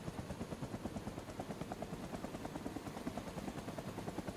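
A helicopter in a flight video game lifts off, its rotor chopping in a fast, even pulse over a steady engine whine, moderately quiet and heard alone.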